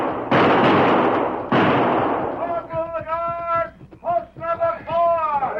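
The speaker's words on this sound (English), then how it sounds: "I'll fire over his head" Two sharp, loud gunshots ring out close together in a radio drama as a fleeing man is fired over, each with a long noisy tail, followed by shouting voices.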